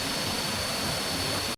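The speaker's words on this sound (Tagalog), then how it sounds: "this is our second waterfall in Koh Chang" Klong Plu Waterfall on Koh Chang gives a steady, close, hissing rush of falling water with no break until it cuts off abruptly at the end.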